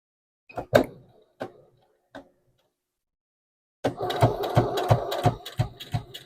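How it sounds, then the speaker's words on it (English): A sewing machine stitches along the folded seam of a fire blanket in a close, fast rhythmic clatter that starts partway through, following a few isolated clicks and knocks separated by silence. "I'm just going to follow that stitching as best I can for where I folded it over"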